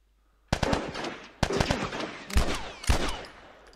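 Gunfire in The Last of Us, a run of loud, close shots and bursts firing in irregular clusters, each sharp crack trailing off with a short decay, with no talking.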